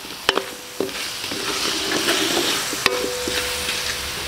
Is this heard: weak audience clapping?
no